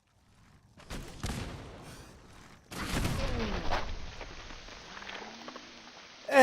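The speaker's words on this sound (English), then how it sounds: "And the Mirelurk Queen detonated my grenade in my face." A grenade blast in a foggy first-person shooter game, set off at close range by a Mirelurk Queen, bursts loudly after a quieter stretch of game noise, followed by lingering rumble, creature noises and debris.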